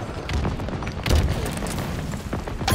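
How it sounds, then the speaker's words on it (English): Deep, rolling booms of orbital ordnance striking in a Halo Infinite big team battle, with low rumbling impacts building and tailing off and several explosive thuds spread over a few seconds. "Ordnance dropping from orbit."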